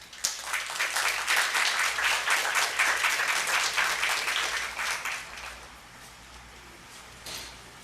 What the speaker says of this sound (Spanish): Un aplauso para todos y comencemos.